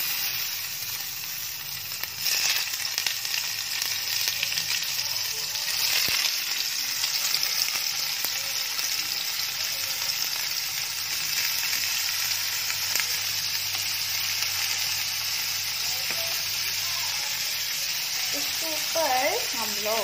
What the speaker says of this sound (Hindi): बहुत गर्म हो गया। तो ना हम इसके ऊपर से पनीर डालेंगे